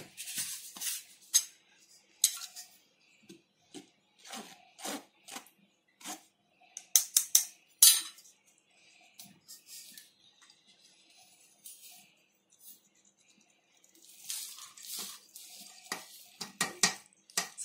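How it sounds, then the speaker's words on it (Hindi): Flour, baking soda and other dry ingredients for a mango cake being sifted through a metal sieve: a series of scraping, rattling taps in uneven bursts, close and fairly quiet, with pauses between, no talk. "इन सबको मैं अच्छे से सीव कर लूंगी"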